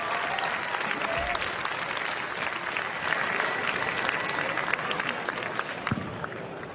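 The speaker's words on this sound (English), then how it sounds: "how about a big round of applause for Yellow for winning that first LT match?" A large crowd at the BlizzCon 2008 StarCraft 2 tournament applauds a match winner with thick, sustained clapping and crowd noise that holds at an even level and tapers only slightly toward the end.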